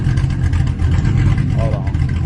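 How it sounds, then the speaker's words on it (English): A Cadillac V engine with a new exhaust rumbles loud and deep up close, holding a heavy steady drone through a brief press of the throttle. "Let's see if I can get a little video of me hitting on the gas."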